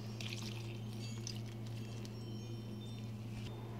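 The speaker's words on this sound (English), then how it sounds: "And then you get 1 cup of milk. And then you add that into the bowl." A cup of milk pours into a bowl in one continuous, close, soft liquid stream over a low background hum, with no voices.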